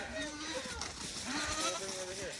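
Goats bleat in a farm pen, with several wavering calls overlapping at a moderate distance beneath a person talking.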